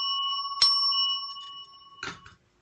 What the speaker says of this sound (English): I can play a mean bell.